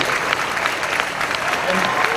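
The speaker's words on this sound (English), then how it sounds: "Can we give a big round of applause" An audience at an expo talk applauds with a dense, steady wash of clapping throughout, heard alongside a voice.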